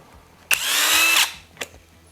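An Assur cordless drill from a four-piece drill set spins up sharply after a click, runs at a steady high whine for under a second, then stops, followed by another short click, heard close and alone.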